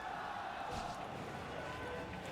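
An esports arena crowd at the China Dota 2 Supermajor playoffs cheers for PSG.LGD, a steady, dense roar of many voices that holds without a break.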